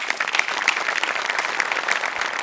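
Studio audience at a Marathi comedy show bursts into sustained, dense applause, a full crowd clapping continuously and evenly throughout.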